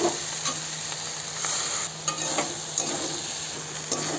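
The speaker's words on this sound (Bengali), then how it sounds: "এবার মশলাটা দিয়ে দেবো সর্ষে আর লঙ্কা বাটারটা এর মধ্যে" Spice paste of ground mustard and chilli sizzles and fries in a pan with water lily stems, a continuous hiss broken by stirring scrapes and soft clinks, close up with no talking.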